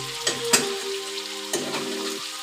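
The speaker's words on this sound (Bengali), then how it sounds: "সবজিটি ভালো করে ভেজে নিচ্ছি তেল দিয়ে, সাথে দুটো শুকনো মরিচ আর একটু জিরা সম্বাসও দিয়েছি" Vegetables frying in oil with two dried chillies and cumin, giving a soft continuous sizzle with a low hum underneath and a couple of sharp utensil knocks, close by with no talking.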